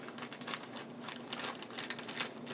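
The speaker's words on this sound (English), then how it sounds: "I'm just going to go ahead and open up my makeup sponges" Plastic packaging holding makeup sponges crinkles and crackles in a quick, irregular series of soft rustles, close and fairly quiet.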